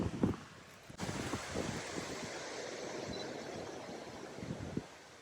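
Surf washing onto a Hawaii shore at sunset, a soft rolling hiss of breaking waves mixed with gusty wind buffeting the microphone, fairly faint and continuous.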